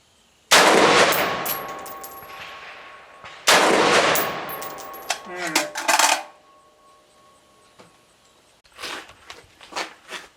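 Two loud rifle shots from a budget AR-15 ring out outdoors while sighting in iron sights at 50 yards, each with a long decaying echo, followed by quieter handling clicks and rustles.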